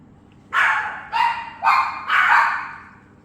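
Several dogs bark in four loud, close bursts at an outdoor home garden, reacting to a man in a big gardening hat; no talk over the barks.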